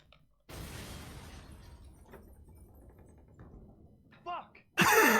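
Glass shatters in the survival horror game Resident Evil 7 with a sudden loud crash and spray of debris, then scattered rattles and a closing burst, under the player's voice.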